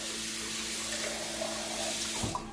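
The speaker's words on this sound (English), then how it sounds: "Now I'm going to rinse out the turkey." Tap water runs steadily into a raw turkey being rinsed out in a sink, a continuous close rushing splash.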